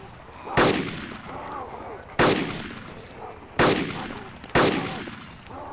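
Four sharp gunshots ring out in the DayZ Origins survival game, spaced unevenly about a second apart, each a loud crack with a short decaying tail over a steady background hum.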